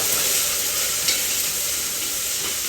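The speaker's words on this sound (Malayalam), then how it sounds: "ഇനി സവാളയും കറിവേപ്പിലയും ക്യാരറ്റ് എല്ലാം ഒരുമിച്ച് ചേർക്കുന്നത് നല്ലോണം ഒന്ന് വഴറ്റുക" Onion, curry leaves and carrot sauté together in hot ghee, giving a loud, steady close sizzle with faint stirring, continuous throughout.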